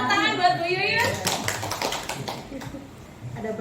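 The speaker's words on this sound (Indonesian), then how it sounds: "tepuk tangan buat Bu Yuyun." A group claps hands together at an Indonesian gathering, a short burst of applause breaking out after a voice speaks, then thinning out into scattered claps.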